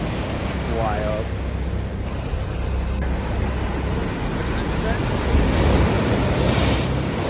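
Ocean surf surges against the shore of the West Coast Trail on the Pacific coast, a loud, steady roar of crashing waves with wind buffeting the microphone, swelling stronger toward the end.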